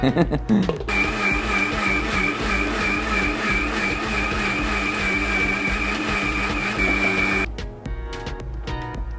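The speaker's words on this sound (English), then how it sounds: "After this, we are putting this to the blender to blend it around." Kitchen blender whirring steadily as it purées butter chicken sauce, a loud continuous motor drone with a high whine that runs for several seconds before cutting off near the end.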